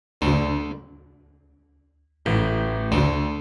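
A layered piano, strings and clavinet chord rings out and slowly fades, then two more chord stabs hit in quick succession.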